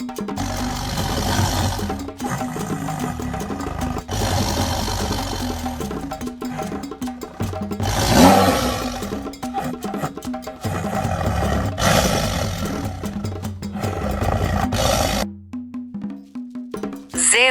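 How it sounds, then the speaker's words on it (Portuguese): Tiger roars among wild zoo animals: a loud, rumbling roar repeats in long surging bursts over about fifteen seconds, then stops with a few faint sounds at the end. "Tigre."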